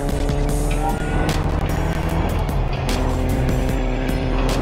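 A car driving in the video game Fortnite, with a steady loud engine roar and tire noise under constant throttle, continuous throughout with no speech.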